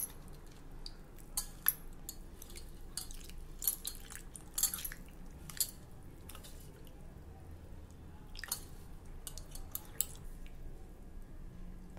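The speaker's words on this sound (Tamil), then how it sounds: "இப்போ நம்ம இது கூட நல்ல பழுத்த தக்காளி பழம் ஒன்று இதோடைய கரைச்சி எடுத்துக்கலாம்" Soft wet squelches and drips as hands squeeze tamarind and a ripe tomato in water, irregular, quiet, close squishing sounds with brief splashes, no talking.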